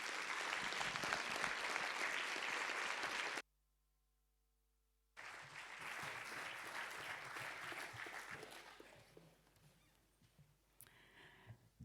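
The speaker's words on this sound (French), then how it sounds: "Sous vos applaudissements, s'il vous plaît." An audience at a song contest applauds loudly, then the sound cuts out abruptly for a moment. The clapping resumes and slowly thins out to faint scattered claps.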